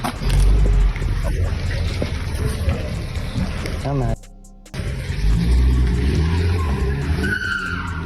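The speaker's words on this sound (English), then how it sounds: "instead of stopping, she hit reverse and drove off" A car reverses and speeds off with loud tire skidding and engine roar in a hit-and-run, the sound broken by a brief dropout; people shout over it.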